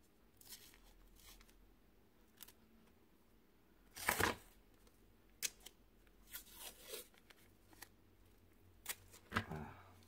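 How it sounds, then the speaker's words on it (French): Sticky tape pulled from a roll and pressed down while assembling a small craft case, heard as a few sharp ripping and crackling bursts separated by quiet handling noises, close and fairly faint. "Alors, on prend notre scotch."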